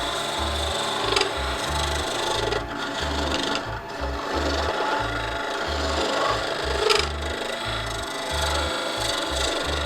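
Wood being back hollowed on a lathe, the tool peeling off long curly shavings in a rhythmic, scraping rasp with regular pulsing beats, close and steady, no voices.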